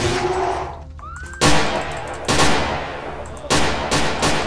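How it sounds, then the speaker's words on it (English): Gunshots in Vampire: The Masquerade, four or five loud, separate reports spaced about a second apart after a brief whistling tone, close and unaccompanied by talk. "I can fire this gun perfectly well with these nails"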